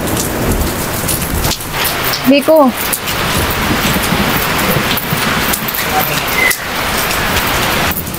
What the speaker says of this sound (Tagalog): Ang lakas ng ulan, mamaya na tayo umuwi.